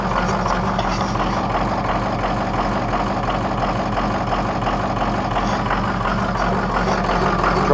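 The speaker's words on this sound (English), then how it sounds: "the truck idles a lot better" A diesel truck engine idles steadily close by in near-freezing cold, a loud, even rumble that holds without change throughout.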